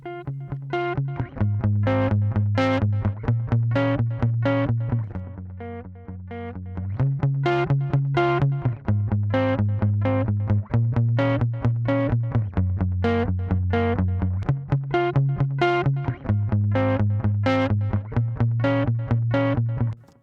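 Heavily clipped, crunchy riff run through Bitwig 5.2's Over distortion plugin, a dense burning tone that plays loud and continuous for the whole stretch, with a repeating pattern of shifting low notes and no talking over it.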